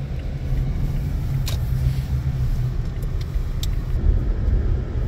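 A car pulls up at a house for a party, its engine a steady low rumble throughout with faint clinks on top.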